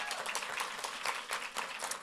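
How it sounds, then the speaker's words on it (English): An audience at a women's business and leadership panel event in Union Township claps in a brief burst, a moderate patter of many hands heard from a short distance. "Let's give her a round of applause."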